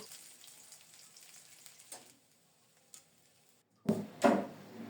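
Bora fritters fry in oil, a faint sizzle that fades to near quiet, then two loud close bursts of crackling near the end.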